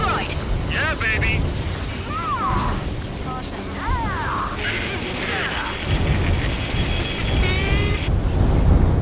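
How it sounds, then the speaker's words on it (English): Heavy rumbling explosion of a rail cannon in Ace Combat 7, a sustained roar with crashing debris and jet noise, while radio voices talk over it throughout. "Confirming explosion. The rail cannon's been destroyed."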